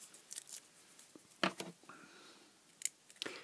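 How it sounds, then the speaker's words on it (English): Cheap snips cut tape off a three-port 3.1A USB power supply, giving a few faint, sharp snipping clicks spread apart in a quiet room. "Using cheap snips, because I don't want to use good quality snips in this."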